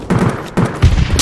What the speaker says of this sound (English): Let's have a little firefight.